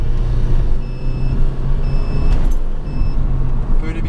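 Opel Vectra 2.0 turbo with the Z20NET engine, high-mileage and running tuned software, driving in traffic: a steady, loud engine and road drone fills the whole stretch, with faint high electronic beeps over it.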